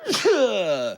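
A single sharp sneeze from one person, close and loud, with a breathy burst leading into a voiced, drawn-out tail lasting about a second.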